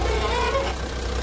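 A JCB excavator engine drones steadily and loudly at close range while the machine slips and gets stuck in a muddy pit, with no speech over it.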